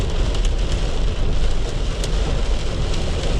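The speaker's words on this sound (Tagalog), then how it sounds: "lakas ng ulan." Heavy rain pours down steadily during a walleye bobber fishing outing, a dense, loud, continuous roar of drops striking surfaces close by, with no speech.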